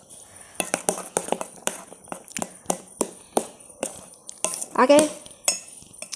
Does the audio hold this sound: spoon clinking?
yes